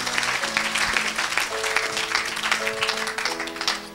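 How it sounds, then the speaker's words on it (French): A church or revival congregation applauds and cheers for Jesus, dense sustained clapping with shouts and voices mixed in, loud and continuous throughout. "Oh, acclame pour Jésus."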